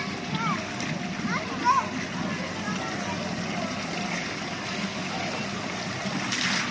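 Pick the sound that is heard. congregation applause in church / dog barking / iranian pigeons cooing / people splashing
people splashing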